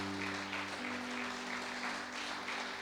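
A church congregation applauds, a dense, steady wash of clapping at low level with a sustained organ or keyboard tone underneath.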